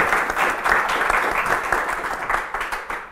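A hotel audience at a live show claps steadily and fairly loudly for a few seconds, with no voices in the clapping.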